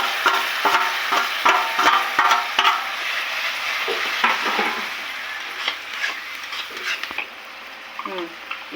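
Tomato, onion, chilli, ginger and garlic frying together in a pan, with close crackling sizzle and repeated scraping stirs that thin out toward the end, no voices.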